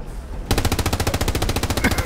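Sustained machine gun fire in a video game, a fast regular stream of loud close shots rattling without pause after a brief quieter lead-in.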